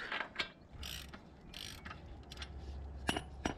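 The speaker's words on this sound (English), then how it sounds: "I just loosened off the axle, not completely, just enough, so it's not tight, but it's not loose" A socket ratchet clicks close up as it loosens the axle nut on a Triumph Thruxton motorcycle, in short bursts of ratcheting with brief pauses between them and no talk.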